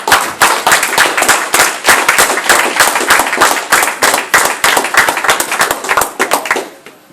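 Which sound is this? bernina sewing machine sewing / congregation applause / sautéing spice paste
congregation applause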